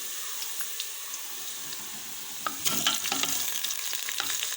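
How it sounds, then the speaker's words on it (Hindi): Half a kilo of minced beef frying with onions in a pan gives a steady hiss that swells into louder sizzling and crackling as the meat goes in, close up, with no talking. "अब हम इसमें ऐड करेंगे कीमा।"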